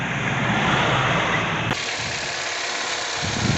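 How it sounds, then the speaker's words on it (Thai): A car engine starting up and idling steadily as a 12-volt daylight-running-light auto switch is tested, a continuous broadband rumble with a brief click partway through, no talking. "เดี๋ยวผมจะไปติดเครื่องรถก่อนนะครับ"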